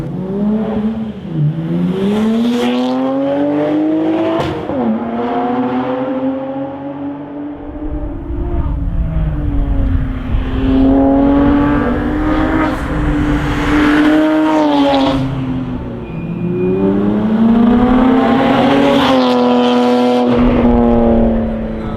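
A modified exhaust on a 400+ hp BMW 135i roars close by, revving up and down in repeated rising and falling pulls, loud and throaty throughout.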